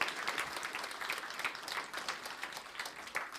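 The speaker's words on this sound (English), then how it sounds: "I think it deserves a round of applause" An audience at a startup awards event applauds steadily, a dense wash of many hands clapping at a moderate, distant level throughout.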